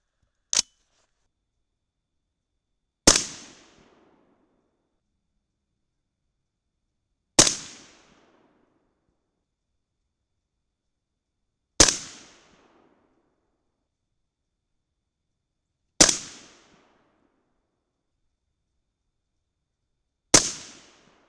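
A .223 Remington rifle fires Hornady 73-grain ELD handloads: six sharp, loud shots spaced about four seconds apart, each cracking out and trailing off in a short decaying echo, with no talking between them.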